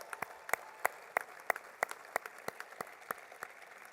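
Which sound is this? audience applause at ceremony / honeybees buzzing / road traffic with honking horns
audience applause at ceremony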